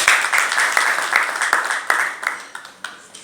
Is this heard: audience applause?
yes